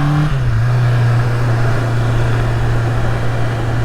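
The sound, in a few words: Honda CBR650R motorcycle engine while riding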